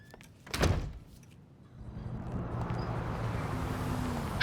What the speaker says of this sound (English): Close the door on your way out.